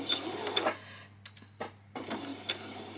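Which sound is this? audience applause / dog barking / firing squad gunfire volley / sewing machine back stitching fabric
sewing machine back stitching fabric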